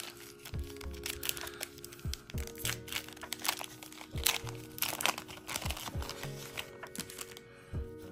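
A cardboard trading-card box being forced open and mangled, close crinkling, crunching and cracking of card with repeated sharp tears and rustles throughout, no talk.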